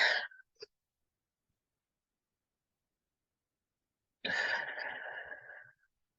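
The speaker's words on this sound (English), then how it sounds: "We're going to take deep breaths with our nose, hold it for 3 or 4 seconds, and then exhale." A deep breath drawn in through the nose: a short airy intake, a long silent hold, then another long breathy rush fading out, close and quiet with no talking.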